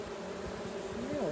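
A dense, close buzzing of many bees humming steadily, with wavering tones as individual insects fly near.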